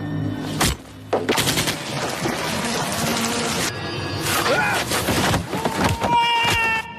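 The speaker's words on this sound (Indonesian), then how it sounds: "Tembakan demi tembakan dilepaskan, namun tak satu pun mengenai dirinya." Rapid bursts of gunfire in a film scene crackle loudly in volleys, with sharp single shots between bursts and tense musical tones and voices mixed in.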